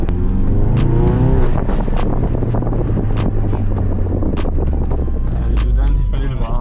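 A Ford Focus RS Mk3 tuned to over 390 horsepower gives a deep, loud engine drone and revs up and down. Repeated sharp exhaust pops and crackles stand out over the engine, and people talk over it in a few places.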